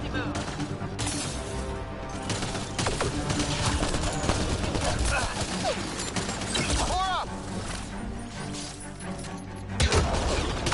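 Grenade blasts and gunfire crackle through a firefight in the sci-fi shooter Mass Effect: Andromeda, a dense, continuous barrage of overlapping shots and bursts lasting throughout, with a sharper explosive burst near the end.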